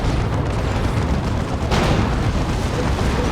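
A loud, rumbling explosion from an Emperor's Wrath strike on Wraithguard in a Warhammer 40k Dawn of War 2 3v3 match, a dense sustained roar with a fresh burst partway through.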